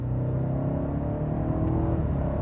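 A BMW 750i G12-generation luxury sedan accelerates hard, its engine a steady, loud low rumble with a rising drone heard from inside the cabin, continuous with no talk.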